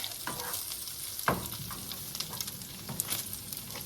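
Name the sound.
hamburger and onion frying in a pan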